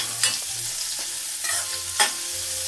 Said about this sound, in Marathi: मी कांदा परतवण्यासाठी ठेवलेला आहे